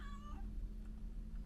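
A domestic cat gives one short, close meow at the start, followed by quiet low room hum.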